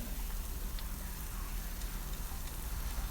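Finely chopped onion and garlic sauté in a pan with a soft, steady frying crackle. The sound stays quiet and even throughout, with no talking.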